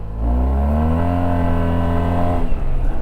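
A 2025 Yamaha TMAX scooter with belt transmission revs up steadily, its engine tone rising smoothly before settling back as the throttle eases; loud and close, with no talk.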